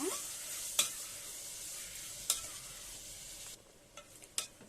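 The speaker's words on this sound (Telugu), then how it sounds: "టమాటోస్ కూడా వేసుకొని మగ్గనిద్దాం. కొంచెం ఫ్రై అవ్వాలండి ఇవి కూడా." Tomatoes fry softly in a pan for drumstick masala curry, a faint steady sizzle broken by three sharper utensil scrapes against the pan, with no talking.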